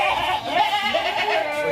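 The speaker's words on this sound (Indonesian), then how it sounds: "Kambingnya teriak-teriak terus," Goats in a fattening and breeding pen bleat loudly and continuously, with several wavering cries overlapping close by.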